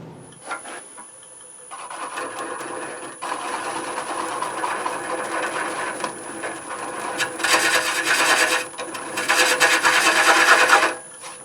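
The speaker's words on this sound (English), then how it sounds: "So now I'm going to sand the inside just up to 220 again" Sandpaper up to 220 grit rubbing the inside of a natural-edge cherry wood bowl turning on a lathe, a continuous close rasping hiss that swells and drops in long passes, with no voices.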